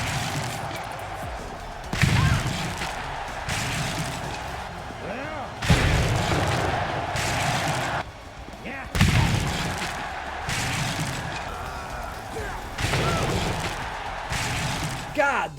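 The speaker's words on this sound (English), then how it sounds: "listen to the sound of the tables breaking in this game." Wooden tables splintering in the wrestling video game AEW Fight Forever: four heavy crashing impacts at roughly three-second intervals, each a loud boom with crackling debris, over steady crowd and game noise.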